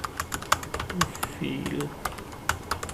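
Quick, uneven clicks of typing a poll question on a computer keyboard in a Webex meeting setup, close and fairly quiet, with a short stretch of speech partway through.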